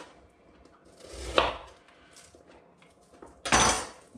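Kitchen knife slicing through an onion on a chopping board while prepping for a beef hotpot: two distinct cutting strokes with a thud on the board, separated by quiet handling noise.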